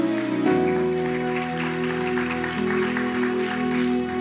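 A church congregation applauds steadily through a sermon, broad continuous clapping under sustained organ or keyboard chords, with no speech.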